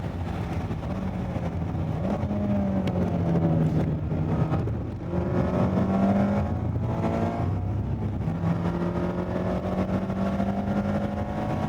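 A Mazda Miata ND3 on a race track, its engine droning steadily at close range with rising and falling pitch through corners under trail braking, continuous with no talk.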